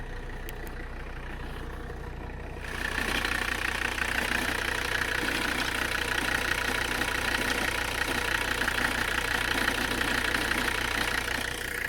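A 1985 Mercedes-Benz 300CD turbo-diesel engine idles steadily nearby, its exhaust note swelling louder after a few seconds into a constant, throbbing rumble.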